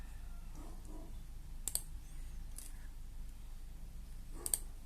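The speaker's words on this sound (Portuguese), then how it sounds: "Dá 2 cliques aqui dentro, né?" Two pairs of sharp mouse double-clicks on a computer, one near the start and one near the end, quiet and close over a low background hum with no talking.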